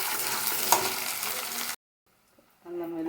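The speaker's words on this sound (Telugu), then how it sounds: "అల్లం వెల్లుల్లి పేస్ట్ అది కొంచెం వేగనిచ్చాం కదా" Ginger garlic paste frying with onions in a pan for a bottle gourd curry, giving a dense close sizzle that cuts out abruptly to silence, then a fainter sizzle with stirring returns.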